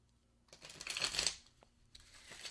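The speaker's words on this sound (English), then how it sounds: "I also prefer to shuffle in a standard card shuffle" A Rider-Waite tarot deck shuffled with a standard riffle shuffle: one quick burst of rapid card flutter close by, followed by a softer shuffle and tap, in a quiet room.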